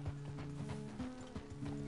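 Horse hooves clip-clop in Red Dead Redemption 2 as a horse walks along, a quick, uneven run of soft thuds heard close in the game world.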